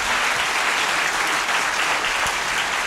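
Dense, steady audience applause fills the hall at the close of the Good Night Club comedy show, loud and continuous without a break.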